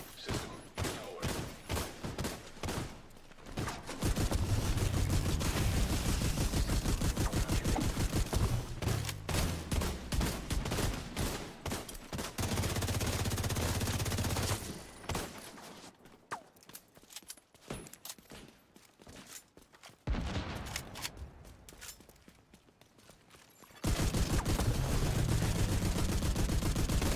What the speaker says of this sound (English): No, stop shooting.